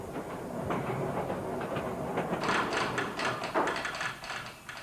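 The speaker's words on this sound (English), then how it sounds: "With only a souped-up truck motor, the autoferro can travel just 40 kilometers per hour." An autoferro rail bus in Ecuador, powered by a souped-up truck motor, runs along the track. The rumble of the motor mixes with rattling wheel clatter and clicks that grow busier in the second half, heard moderately close.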